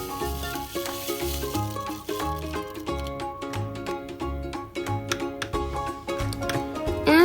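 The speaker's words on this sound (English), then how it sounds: "And stir it until it's mixed well." Tteokbokki sauce of Korean red chili pepper flakes, stevia syrup and raw brown sugar being stirred in a pan: a steady soft sizzle with rhythmic scraping strokes, no talking.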